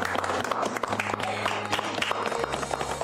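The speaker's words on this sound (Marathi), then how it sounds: "प्लीज एकदा आपण टाळ्या वाजवूया" A group of people applauding in a TV serial scene, a moderate patter of clapping running under a sustained background music tone.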